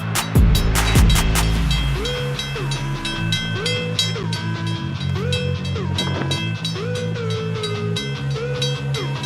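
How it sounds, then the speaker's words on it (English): A train locomotive plowing through massive snowbanks, its engine rumbling loudly and steadily with a sharp horn blast at the start and shifting tonal whines throughout, no voices. "the train engineer plows through massive snowbanks with ease"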